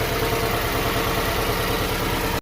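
Subaru Impreza WRX hatchback engine idling after an oil change, a steady, close, even rumble with a faint rhythmic pulse and no talk.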